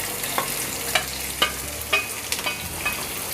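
A medium-sized onion fries in a pan for jeera aloo, giving a soft continuous sizzle with regular stirring clicks from a spatula, close up and with no voices.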